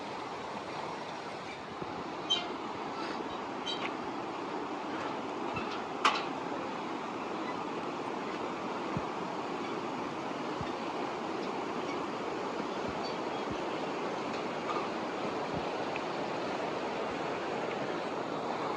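Water from Gosainkunda flowing down a Himalayan mountain stream in Nepal, a steady, close rushing roar with a few faint clicks and knocks.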